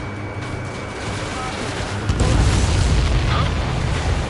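Explosion of an enemy transport in a video game, a heavy rumbling blast swelling abruptly midway over continuous roaring combat noise, with a voice speaking over it.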